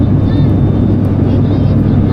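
An airplane cabin during landing fills with a loud, steady low-pitched engine and airflow roar that holds constant throughout.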